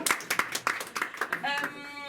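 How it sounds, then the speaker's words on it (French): A comedy show audience claps in scattered, uneven bursts while a performer's voice talks over the applause. "Applaudissez si vous voulez"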